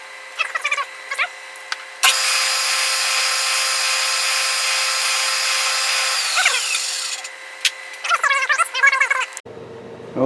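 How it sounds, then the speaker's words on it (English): A power drill bores deep holes into a metal tapping fixture base, running as a loud, steady whine for about five seconds before winding down, with brief bursts of handling noise around it. "Okay, so I've drilled both holes nice and deep."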